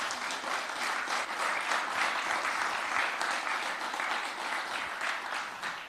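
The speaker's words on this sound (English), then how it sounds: "Let's give them another round of applause," An audience at a business design competition gives the pitching teams a steady round of applause, dense continuous clapping from many hands throughout, fairly close and even in loudness.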